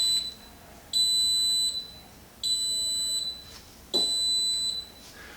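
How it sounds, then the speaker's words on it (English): Anycubic Wash and Cure station sounding three evenly spaced, loud electronic beeps, each a steady high tone lasting under a second, with brief quiet gaps between them. "Okay, it beeps."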